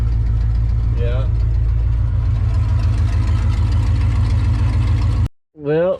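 A 1984 Ford F-150 engine idles steadily and close, a low rumbling throb running under faint background sounds before cutting out abruptly near the end, followed by a brief burst of voice.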